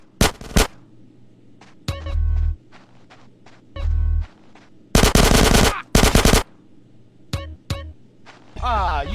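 Gunfire in the video game GTA San Andreas, with sharp single shots and several loud, rapid automatic bursts scattered across the clip, mixed with thuds and other game action sounds.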